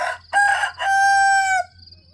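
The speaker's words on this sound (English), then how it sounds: "You've heard Cat crowing over here" A rooster crows once, nearby and loud: a short opening burst followed by a long, drawn-out call.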